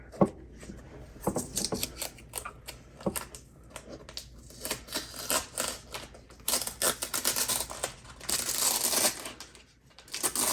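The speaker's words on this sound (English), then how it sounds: "Let's get this tape off of here" Tape being peeled off a late 2013 iMac, a run of crackly, uneven ripping and tearing bursts that builds into a longer, louder strip pull near the end, close and without speech.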